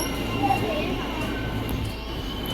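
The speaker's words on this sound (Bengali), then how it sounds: "এই যে ট্রেন ঢুকে গেল" A train pulls into a station with a continuous low rumble and hum of rail cars, steady and moderately loud, while people chatter and children's voices carry across the platform.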